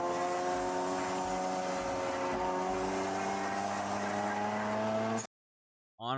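A race car engine in the iRacing sim drones steadily with strong harmonic tones, its pitch easing off as the throttle is lifted, then cuts to near silence before a brief burst returns.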